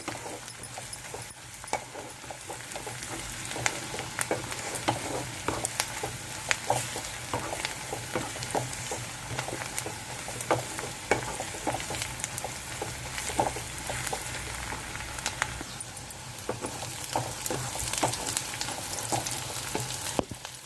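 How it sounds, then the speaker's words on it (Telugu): Onions fry in a pan for a curry of dried prawns and cucumber, with a continuous sizzle and crackle punctuated by frequent clicks of stirring, steady and close throughout. "ఉల్లిపాయలు కూడా వేగిపోయినాయండి"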